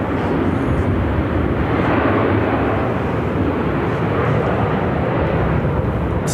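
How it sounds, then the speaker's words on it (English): United Airlines Boeing 737-900ER jet airplane at Phoenix airport, a loud, steady broadband engine roar that holds constant throughout, close and alone without talk. "United Airlines Flight 624 headed to Houston on a 737-900ER."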